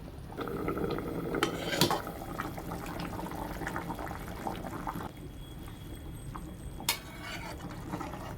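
Water poured into a cooking pot for a simple egg and potato curry, a steady splashing fill running for several seconds with a few sharper clanks of the pot, fairly close, and no voices.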